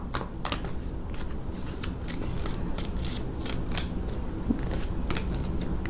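Tarot cards are shuffled and spread by hand in a rapid series of crisp riffling, slapping flicks, close and clear, with no talking.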